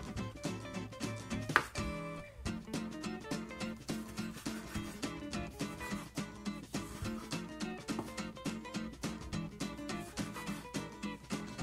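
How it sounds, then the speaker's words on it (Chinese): A knife chopping tomato into small pieces on a board, a steady brisk rhythm of close, even knocks running throughout with no talk. "番茄切小块"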